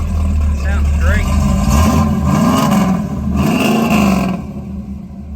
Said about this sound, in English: Good sounding exhaust. It's got that thump everybody likes.